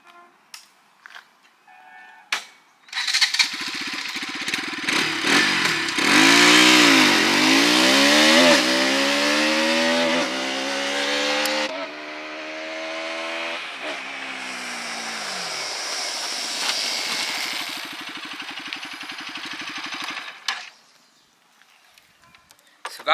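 A Bajaj Pulsar RS 200 motorcycle engine revs hard through the gears during a speed test, with rising and falling whine at each shift, loud and close, tapering off near the end.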